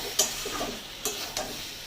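Poppy seed and green banana curry is stirred in a pan, three short scraping knocks of a spoon over a soft low sizzle, brief and close without talk.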